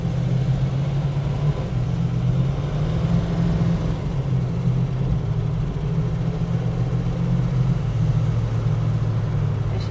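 A Plymouth Barracuda, an old Mopar with patina, drives along with a steady low engine drone and road rumble, close and continuous throughout.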